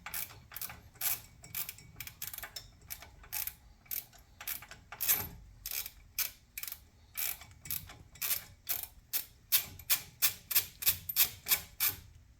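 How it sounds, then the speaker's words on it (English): A regular hand ratchet snugs down bolts on a 2014 Ford Taurus front wheel bearing, giving quick repeated clicking bursts that start irregular and settle into a fast, even rhythm toward the end, close and fairly quiet. "just make them down with the regular ratchet"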